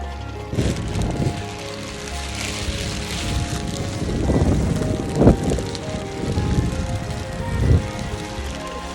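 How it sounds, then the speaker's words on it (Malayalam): Steady heavy rain in Munnar, Kerala, with gusty wind buffeting the microphone, a few louder thumps and rustles breaking through, no talking. "ഇവിടെ ഭയങ്കര മഴയാണ്"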